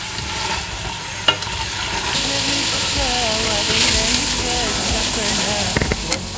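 Onion and carrots frying with lentils in a pot for harira, a steady close sizzle with stirring scrapes and small clinks; a voice talks briefly over it.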